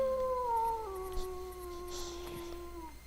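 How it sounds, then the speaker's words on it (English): A wolf howls in the King's Quest 2 video game, one long, drawn-out tonal cry with a falling pitch, clear and fairly prominent over a quiet background with no talk. "You freeze as a wolf's howl sends shivers down your spine"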